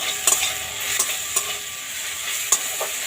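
A spice mix fries in a pan while being stirred, with a steady close sizzle broken by a few sharp scrapes from the stirring utensil, and nobody speaks.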